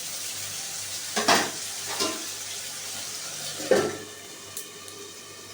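A potato and banana flower curry is stirred in a pan after water is added, giving a few soft scraping strokes over a faint steady simmer, with no talking.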